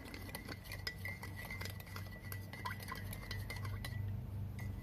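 A spoon stirs a drink in a cup, giving light, repeated metallic clinks against the rim over a steady low hum, with no talking.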